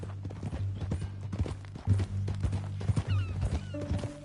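Horse hooves clip-clopping in the video game Red Dead Redemption 2, a steady walking rhythm of hoof strikes, fairly close but quiet, with a low tonal hum and brief background sounds.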